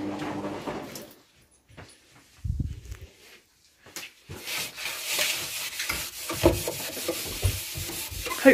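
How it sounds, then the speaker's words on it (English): An oven interior wiped out after oven cleaner was applied: scattered soft knocks give way to continuous close rubbing and scrubbing with occasional clunks. "I put the oven cleaner stuff on it earlier and I just need to wipe it out."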